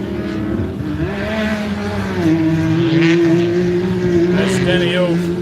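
Race cars, including turbo cars, running on a track, with engines droning and rising in pitch as they pass, heard under a steady commentary voice.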